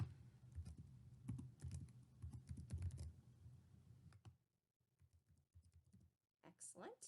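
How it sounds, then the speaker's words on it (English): Typing on a computer keyboard while entering account details online: quick, soft key clicks in rapid bursts under a talking voice, fading to sparse taps and then a few louder clicks at the end. "So let me type in my information here."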